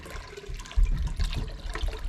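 Water gushing from the drain valve of a hot water heater into a bucket, a close, steady rushing splash with uneven surges, no talking.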